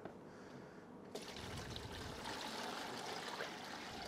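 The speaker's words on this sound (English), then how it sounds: "So we're going to fill it with water first." Water pours steadily into a small plastic box, starting as a softer trickle and then becoming a louder, continuous splashing fill that lasts to the end.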